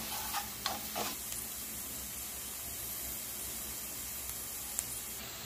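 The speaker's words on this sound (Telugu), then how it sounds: "కొంచెం క్యారెట్ వేసుకొని వేయించుకోవాలి." Carrots frying with corn in a pan for veg fried rice give a steady, faint sizzle and hiss throughout, broken by a few brief stirring scrapes near the start.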